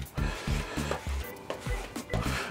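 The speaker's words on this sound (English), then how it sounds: "Just give it a wipe with a wet rag for some cleanup." A wet rag wiped over a glued wood joint on a dovetail or box joint, giving about a dozen short rhythmic rubbing strokes, close and moderately loud, with no talk.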